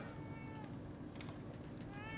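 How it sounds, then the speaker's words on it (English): A cat meows twice in the horror video game The Evil Within 2, short clear mews with a gap between them, heard over a steady low ambient drone. "Oh yeah, Kitty is going to give us goop"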